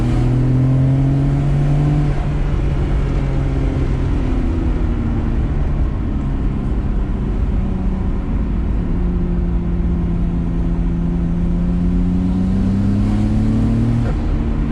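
A 1994 Nissan Skyline GTR fitted with smaller turbos pulls away under steady acceleration, its engine drone rising and falling smoothly, loud and close from inside the car with no talk.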